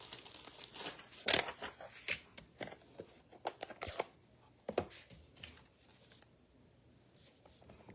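A piece of scrap paper is crinkled and crushed by hand up close in a card-making setup, bursts of crackly rustling with a louder crunch early on, then quieter fading handling.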